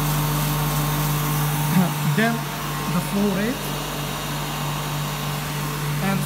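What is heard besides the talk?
centrifugal pump running in lab test rig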